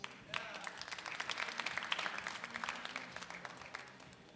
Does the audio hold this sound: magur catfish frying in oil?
no